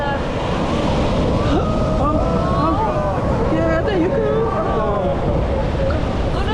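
Ocean waves wash onto a beach at Puerto Escondido, Mexico, a loud, continuous surf rush with wind buffeting the microphone, while people talk and exclaim throughout.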